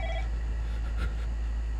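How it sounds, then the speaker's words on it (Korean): A telephone rings in a horror video game, a short electronic tone heard in the opening moments over a steady low hum, then fading into quiet ambience. "전화 왔어 전화 왔어"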